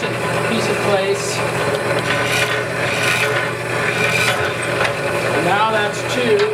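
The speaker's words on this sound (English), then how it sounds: "How many holes do I have to drill, Bill?" Horizontal drill press boring holes in a clamped wooden workpiece, giving a continuous loud motor whine and rasping cut that holds steady throughout, with someone talking over it.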